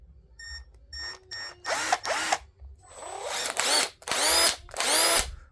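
Bursts from a Milwaukee 1/4-inch impact driver running at full power, about four to five loud hammering runs of roughly half a second each, with short gaps between them and no talk.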